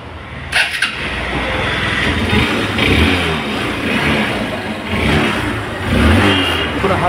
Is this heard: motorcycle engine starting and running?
yes